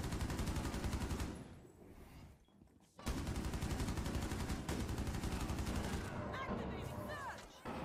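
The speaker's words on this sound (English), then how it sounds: "Why is he just shooting at me?" Rapid automatic gunfire in Rainbow Six Siege, loud sustained bursts with a brief lull partway through, then continuous shooting resumes.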